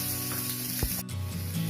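Onions frying in a pan for a tomato coconut chutney, a steady close sizzle and hiss with a brief stir partway through.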